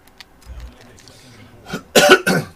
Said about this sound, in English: Cannot clear my throat.